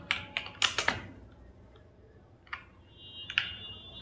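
Quick clicks from a computer keyboard while a certificate is typed in MS Word, with a burst of keystrokes at first, then a pause and a few scattered taps, close and fairly quiet.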